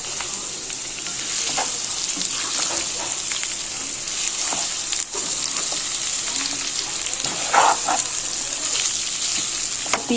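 Chicken pieces frying in a pan give a steady, dense sizzle that runs unbroken throughout, close and fairly loud, with occasional spatters and a light stir or two, and no talking.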